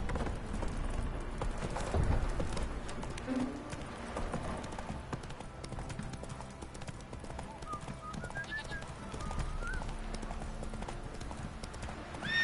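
Roach, a horse in The Witcher 3, gallops with a rhythmic clip-clop of hoofbeats throughout and a brief whinny, while faint game sounds play underneath.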